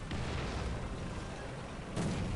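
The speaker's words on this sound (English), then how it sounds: "They're trying to shell our position with artillery." Artillery shelling in a battle video game: muffled, distant booms, with one burst near the start and another toward the end over a low rumble.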